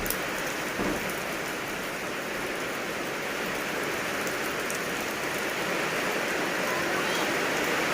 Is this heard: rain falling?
yes